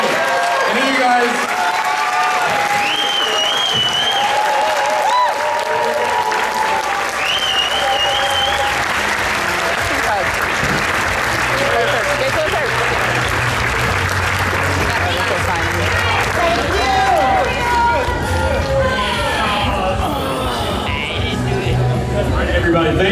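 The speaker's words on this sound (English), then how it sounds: "Give a round of applause, everybody" A convention panel audience at a Smallville fan event in Chicago applauds in a sustained wash of clapping, with cheers and whoops rising above it and a voice over a loudspeaker talking through it.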